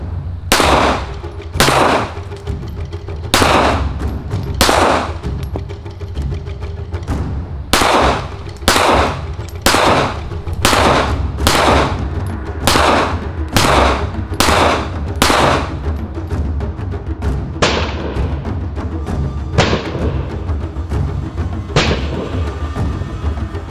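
Repeated gunshots fired at bulletproof glass and steel panels during armor testing, about seventeen loud sharp cracks spaced roughly a second or more apart, near and alone over a low steady rumble.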